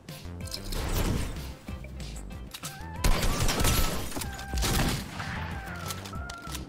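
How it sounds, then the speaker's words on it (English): Gunfire in Fortnite comes as sustained, loud bursts of shots and impacts over several seconds, with dense overlapping reports and brief lulls, and no one talks over it. "He's shooting at me."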